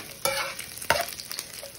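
Bacon sizzles in a nonstick skillet while a utensil stirs and scrapes it, with two sharp clattering bursts over a continuous close frying hiss.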